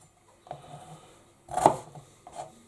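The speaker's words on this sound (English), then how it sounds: "once again, it's just a rough chop" A knife roughly chopping winter soup vegetables on a board, with three separate soft thuds, the middle one loudest, close by and with no talking.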